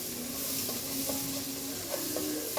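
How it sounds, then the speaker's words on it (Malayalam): Chopped tomatoes are stirred in a cooking pan over a constant hissing sizzle, with a few soft scrapes and taps of the spoon close by. "തക്കാളി ഇട്ട് നമുക്ക് നന്നായിട്ട് ഇളക്കി കൊടുക്കാം"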